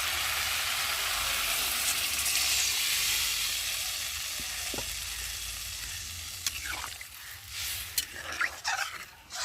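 Soybean and potato curry cooks in a pot over a wood fire, giving a soft steady sizzle and bubbling hiss that fades a little, broken near the end by a few clinks and knocks.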